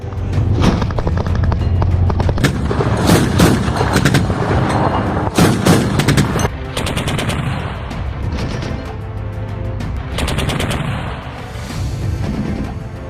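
Combat with large-caliber artillery and gunfire, loud repeated booms and cracking shot bursts rolling over one another, sustained and close, with no talk.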